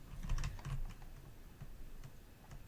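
Keys on a computer keyboard clatter in quick bursts of clicks, a cluster early on, then sparser taps spaced apart, close and fairly quiet with no voices.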